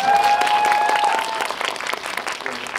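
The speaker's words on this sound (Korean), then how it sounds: "박수 한번 부탁드립니다." An audience claps at a CGV movie talk event in Wangsimni, a dense burst of applause that tapers off over a few seconds, with a faint tone and brief talk beneath.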